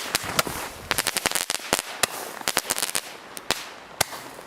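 A Lidl Mysterie 20-shot, 25mm fireworks battery fires a rapid, irregular string of sharp cracking bangs, loud and close, some in quick clusters and others spaced apart.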